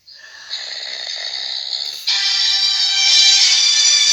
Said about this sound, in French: Une star qui ronfle en direct.